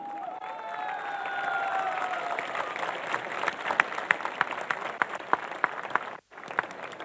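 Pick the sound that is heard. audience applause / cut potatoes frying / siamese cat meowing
audience applause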